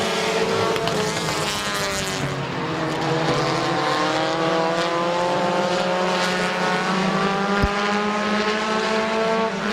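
Compact race cars at Midvale Speedway roar through turns 3 and 4 on the final lap, their engines droning loud and close with rising and falling revs as they pass, continuous over the whole stretch.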